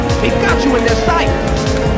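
A car drifting in a racing video game on Diablo Canyon Rd, a loud constant engine whine with tire squeal and rising and falling pitch, with voices over it.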